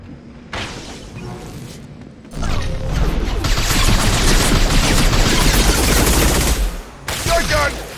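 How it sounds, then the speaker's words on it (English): Shotgun fire in Mass Effect 2 combat: a short blast is followed by a pause, then a long, loud, dense run of rapid gunfire and crashing impacts, with a final burst near the end. "Shotgun!"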